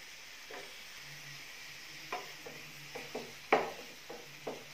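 Chicken goes into a pan of turmeric-fried masala for a simple chicken curry. A soft sizzle plays under a string of spoon strokes and scrapes, with one sharper knock near the end.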